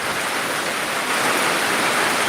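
Sudden heavy rain pours down during a Kalbaishakhi storm in Cumilla, a dense, steady broadband roar that fills the scene evenly from start to finish, with no voices.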